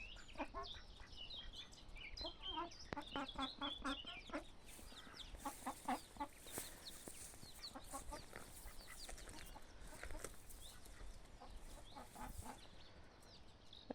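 Chickens cluck repeatedly in rapid, busy bursts close by in a farmyard where ducklings are out, steady throughout with occasional voices in the background.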